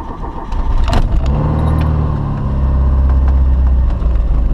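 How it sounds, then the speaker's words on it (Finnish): A Lada Samara car engine starts with a brief cranking whine, then settles into a steady, loud, close idle as it warms up in a yard, with no talk. "Moottori lämpeämään."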